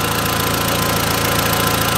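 A standard Audi TT engine runs steadily on a driveway, giving a continuous, even idle with a low rhythmic pulse and broadband mechanical noise, close and fairly loud with no talking.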